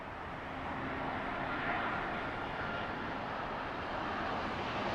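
A Virgin airliner lands on runway 09 left at Heathrow Airport, its broad engine roar swelling over the first seconds and then holding steady and fairly distant, with no voices.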